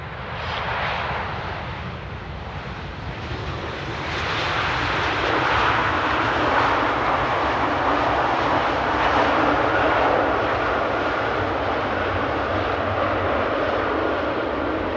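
Qatar Airways airliner touching down at Amsterdam Airport at sunset without reverse thrust, a distant steady engine roar with wind-like rumble that swells slightly after touchdown and holds steady.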